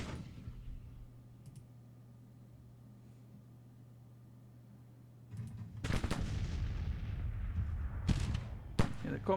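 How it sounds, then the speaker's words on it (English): Artillery fire in the strategy game Grand Tactician, starting with a quiet hum and faint ticks, then a loud burst of booming cannon shots and rumbling, with two sharp blasts near the end. "Marching into our artillery fire."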